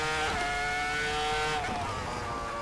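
A V10 engine in a futuristic 2025 F1 car, driven in a racing sim at Monza, screams at high revs in fourth gear, its loud whine holding steady and then dropping slightly as the car eases off.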